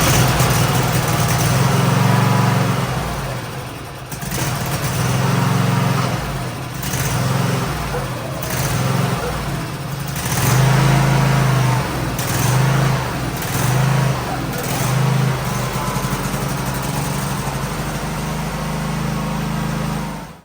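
A riding lawn mower with a Kohler engine runs loud and close as it is backed out, a steady low engine drone with rhythmic swells in pitch and load throughout.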